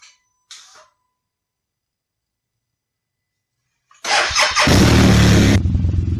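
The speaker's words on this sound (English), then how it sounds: "So I have to switch on the engine." A BMW motorcycle engine cranks and fires up, starter whirring briefly before the engine catches and settles into a steady, loud idle after a couple of faint clicks and near-silence.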